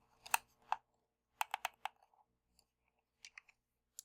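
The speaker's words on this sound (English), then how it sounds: "go ahead and pull the controller out." A Steam Controller being pulled out of its cardboard packaging, heard as sparse, crisp plastic clicks and taps close up in a near-silent room, coming in small clusters with pauses between them.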